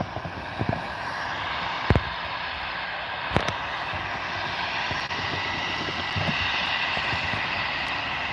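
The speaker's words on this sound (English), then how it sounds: "We do have an EasyJet on the taxi out and it is off to Alicante." An EasyJet airliner taxis out at Liverpool Airport, a steady distant jet engine whine and hum with a few sharp clicks or knocks in the foreground.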